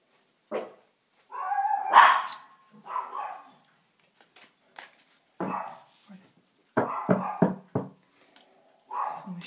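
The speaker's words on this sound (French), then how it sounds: "Chien qui aboie quand il va passer quelque chose." Dog barking outdoors in a series of loud, uneven barks and yips separated by short pauses, with some whining between bursts.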